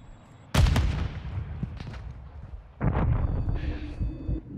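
A frag grenade blast in the Call of Duty DMZ video game hits hard and loud, then a second burst of explosion and gunfire comes a few seconds later, with lingering rumble in between.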